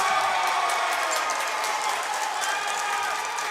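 High school boys basketball crowd at Wilmington applauding and cheering after a steal and dunk, a dense, steady roar of clapping and voices filling the gym throughout.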